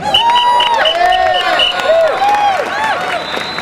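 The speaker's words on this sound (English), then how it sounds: "Give them a round of applause, please." An audience claps and cheers for a former Presbyterian Church bishop, with rising whoops and shouts layered over a busy crowd roar.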